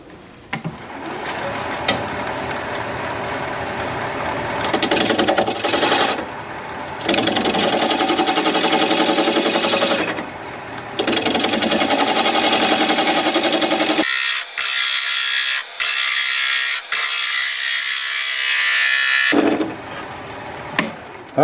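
A wood lathe turns a hard wooden bowl blank, giving a loud, steady whirring drone broken by brief pauses and one longer gap where the cutting noise drops away before resuming.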